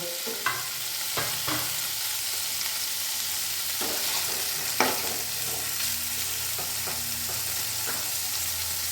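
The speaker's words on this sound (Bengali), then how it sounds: "তেল অলরেডি গরম হয়ে গেছে। দেখুন, পনিরগুলো আমি এতেই ছেড়ে দেবো।" Paneer pieces frying in hot oil in a pan, a loud steady sizzle with a few light stirring knocks, close up and uninterrupted by speech.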